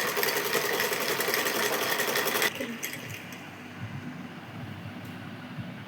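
A sewing machine stitching the side seams of a garment runs loud and steady for a couple of seconds, then cuts out, leaving quiet handling noise.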